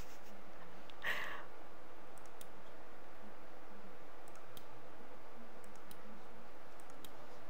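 IQRF mesh-network relay giving a single sharp click, close and clear, followed by a faint quiet room with a few tiny ticks; no one speaks.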